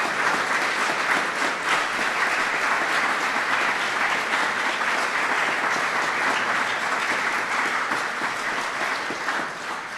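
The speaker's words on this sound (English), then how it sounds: "Would you give them all a round of applause for their kindness?" Sustained, loud applause from a ceremony audience at a swearing-in of the US ambassador to Japan, a dense steady wash of many hands that tapers slightly at the end with no talking over it.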